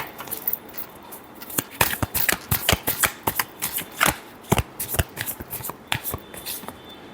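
A deck of tarot cards shuffled close up, producing dense bursts of sharp papery clicks and riffles in uneven rhythm across seven seconds, with no voices.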